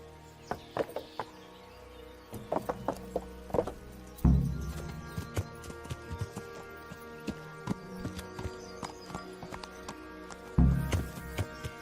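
Horse hooves clip-clop in a riding scene from the medieval video game Kingdom Come: Deliverance, with scattered uneven steps, a couple of heavier thuds, and faint birdsong in the background.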